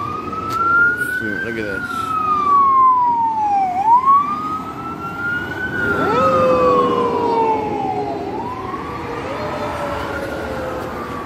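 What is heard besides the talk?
ambulance siren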